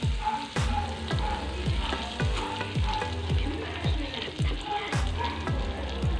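Butter sizzles in a pan as the base for garlic butter shrimp, with a continuous close crackling hiss. Repeated scraping stirs of a utensil recur in a steady rhythm, and no voices are heard.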